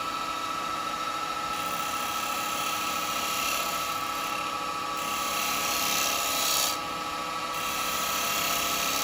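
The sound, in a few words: chisel cutting maple on woodturning lathe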